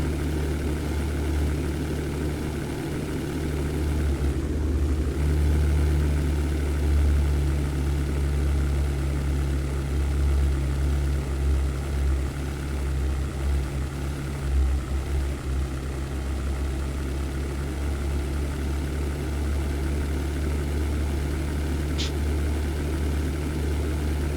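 Hawker Hurricane piston engine droning steadily in the European Air War flight game, a loud, constant low rumble with strong harmonic hum that holds throughout without talk.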